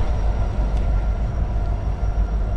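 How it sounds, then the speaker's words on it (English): A heavy, continuous low rumble of a freight train rolling past nearby, steady and loud throughout with no voices. "there'll be big freight trains"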